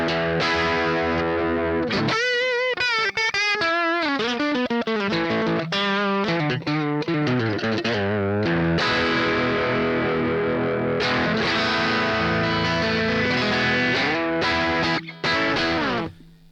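Heavily distorted electric guitar plays through out-of-phase neck and middle single-coil pickups, with a hollow, thin tone. Sustained chords alternate with quick riffs and bends in a continuous, loud, unaccompanied passage.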